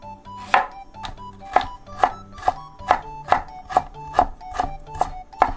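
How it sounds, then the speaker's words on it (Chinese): A knife dices carrot and dried tofu into small cubes on a board, about a dozen crisp, evenly spaced chops in a steady close rhythm with no talking. "红萝卜跟豆干切成小丁状"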